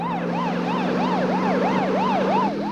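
A wailing siren sweeps up and down in quick regular cycles, loud and close over a low vehicle drone, with no talk.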